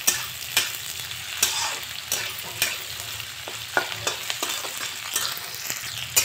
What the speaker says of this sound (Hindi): प्याज हल्का सा लाल हो गई बा, हमी के प्याज के अच्छा से भून लेनी जा